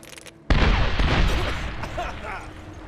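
A frag grenade explodes in the 2010 Medal of Honor video game, a sudden heavy boom followed by a long rumbling, crackling decay with scattered gunfire in the background.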